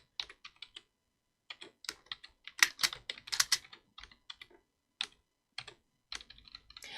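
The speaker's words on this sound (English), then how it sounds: "I'm going to type the next question out." Rapid bursts of keystrokes on a computer keyboard, clicking in irregular clusters with short pauses between runs, close and alone without any talk.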